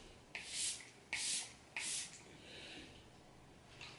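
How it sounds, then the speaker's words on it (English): Makeup setting spray misted onto a face at close range: three short, breathy hissing bursts in quick succession, followed by quiet. "I get this setting spray and I just spray my face."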